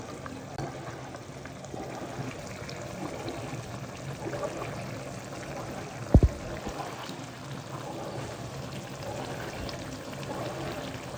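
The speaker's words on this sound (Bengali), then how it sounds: "নিয়ে এখন গরম পানি ঢেলে দিব" Hot water streams steadily into a pan of fried spices, a continuous close pour with a short sharp clunk partway through, no speech.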